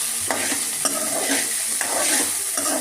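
Chili powder and green chilies fry in a pan, a steady sizzle punctuated by rhythmic scraping strokes of a spoon about every second, close and fairly loud with no talking.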